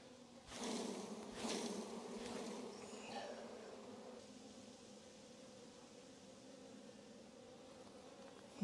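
Honeybees buzzing around an open beehive during an inspection, a steady close drone of many wings with a couple of louder swells early on, no talking.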